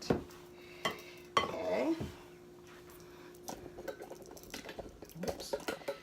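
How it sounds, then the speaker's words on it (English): Eggs being stirred into a meat and coleslaw keto casserole, with clinks and scrapes of a utensil against the dish in short bursts, while a person speaks briefly. "But you mix the eggs in with it."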